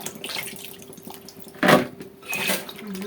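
Okra pods washed under a running kitchen tap, a steady close stream of water with a sharper splashing burst midway and softer spatter after.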